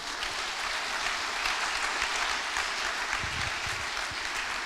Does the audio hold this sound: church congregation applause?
yes